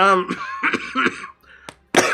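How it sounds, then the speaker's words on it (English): A live streamer clears his throat and coughs close to the microphone, a few rough bursts between short stretches of voiced sound, ending with a sharp loud cough. "trying not to cough."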